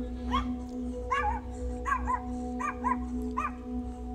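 Repeated dog barks in a steady series of about six, moderately close, at a cemetery, over a constant low electrical hum.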